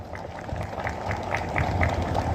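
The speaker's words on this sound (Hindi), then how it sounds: "जरा एक बार जोरदार सबके लिए ताली बजा दीजिए।" Dense, steady crowd applause fills a large outdoor public gathering in Uttarakhand addressed by Chief Minister Dhami, many hands clapping together at a fairly loud, even level with no clear speech over it.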